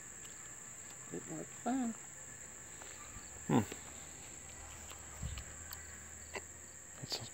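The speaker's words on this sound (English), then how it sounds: "There's a cricket. You hear the cricket?" A cricket chirps in a continuous high, thin trill outdoors at night in Sylva, North Carolina, faint and steady under a quiet night scene while someone speaks briefly and other soft calls drift in.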